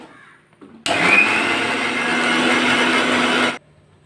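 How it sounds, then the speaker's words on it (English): A mixer grinder whirs loudly and steadily for nearly three seconds as it grinds boiled tomatoes into paste for pizza sauce, starting abruptly and cutting off sharply. "we'll take the tomatoes, grind it and make it a nice good paste"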